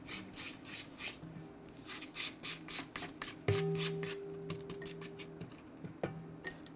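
A spatula scrapes creamy filling for homemade vegan, gluten-free peanut butter sandwich cookies off the sides of a mixing bowl, with close, repeated rasping strokes in a steady rhythm.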